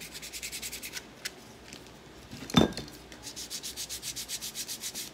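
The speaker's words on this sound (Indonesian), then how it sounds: "ini harus kita amplas yang bagian dalam" Sandpaper rubs back and forth in a steady, rhythmic scratching while sanding inner parts of a JN39 rubber-powered model plane kit, close and moderately loud, with a brief clatter in the middle and no voices.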